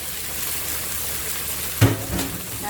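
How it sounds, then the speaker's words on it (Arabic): Onions sizzle in hot oil in a pot, a steady close crackling fry with a brief stirring clatter partway through. "الزيت معايا سخن، هنا معايا شويه بصل حلوين محترمين كده"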